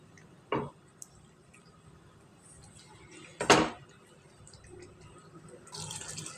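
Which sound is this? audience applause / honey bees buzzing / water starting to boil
water starting to boil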